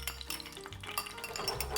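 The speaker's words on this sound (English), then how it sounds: "Keep the pan moving, otherwise the omelette will get stuck" Beaten egg cooks as an omelette in a pan kept moving for restaurant-style mixed fried rice, with close scraping and stirring clatter over a soft sizzle.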